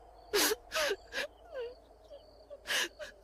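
A woman cries beneath a tree in a Hindi horror cartoon story, with several loud, wailing sobs and gasping breaths in uneven bursts and quieter whimpers in between. No one speaks.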